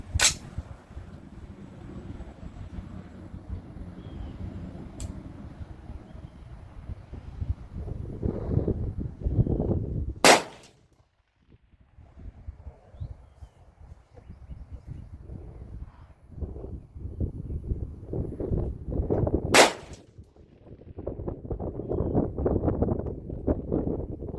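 Rifle shots from BCM and BA rifles fired at an outdoor range, with a few sharp isolated cracks spaced several seconds apart over steady wind and rustling.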